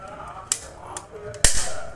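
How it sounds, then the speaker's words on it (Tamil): A few sharp snaps from a toy cap gun fired as Diwali firecrackers, three brief cracks spread over two seconds with the last one loudest, set against faint background noise. "இப்போ நம்ம வெடி வெடிக்கலாமா"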